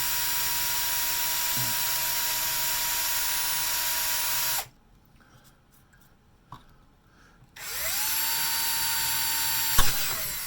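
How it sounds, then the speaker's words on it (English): A power drill drilling holes in an element base whines steadily, stops for a few seconds of near quiet with a small knock, then spins up again, ending with a sharp clunk. "So I'm going to drill all these holes this time."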